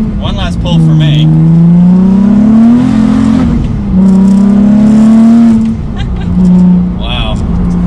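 A turbocharged Nissan 350Z accelerates hard through the gears, the engine droning loud and rising in pitch with brief dips at shifts, heard from inside the car as occupants speak over it.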